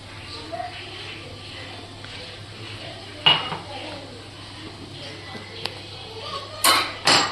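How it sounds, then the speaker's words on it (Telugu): A spoon stirs masala into gongura chicken curry in a pan, with scraping and clinks of metal against the pan, sharp knocks near the end and a voice speaking at times. "మసాలా వేసుకున్నాం కదా, మంచిగా కలుపుకోవాలి ముక్కలు పట్టేంత వరకు"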